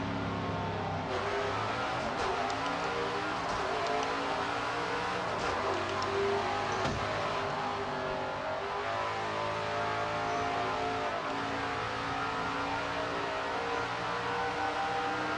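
A race car engine in SRX The Game, racing at Nashville Fairgrounds, drones loud and continuous with rising and falling revs and the whine of other cars passing, without any talking.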